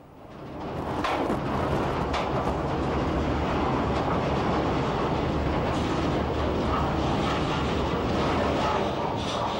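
A locomotive on an Irish peat railway hauls a rake of empty wagons through the yard toward the bog, a loud continuous rumble and rattle of wheels and couplings that swells in and holds steady throughout.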